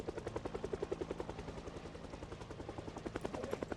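A helicopter flies over in the video game Project Zomboid, its rotor thumping in a fast, regular pulse that stays steady, swells slightly toward the end and carries no speech.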